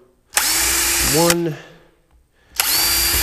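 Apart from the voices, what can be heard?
power drill drilling into wooden nest box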